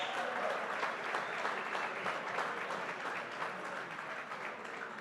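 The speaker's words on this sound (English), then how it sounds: "A better round of applause for the staff." A roomful of dinner guests at a county political committee's spring dinner applauds the staff, a steady, even patter of many hands heard fairly quietly and from some distance, with no voices over it.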